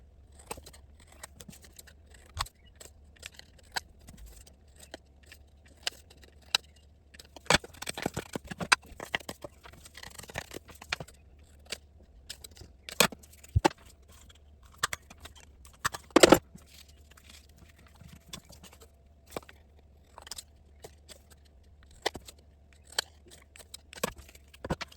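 Scissors snip out paper bingo card pieces, a run of sharp, dry clicks and crisp cuts at irregular intervals, close but faint against a quiet room hum, with a denser burst of snipping in the middle.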